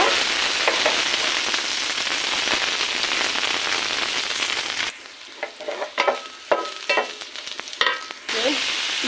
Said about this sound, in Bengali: এখন পেঁয়াজ রসুন মরিচ একসঙ্গে ভাজি করছি, বাদামি কালার করে নেব